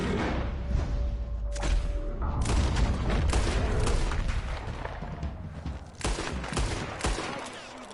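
Rapid volleys of gunfire with booming blasts from a PS4 action game, dense and continuous bursts across the whole stretch, with a soft whoosh and brief game voices mixed faintly underneath.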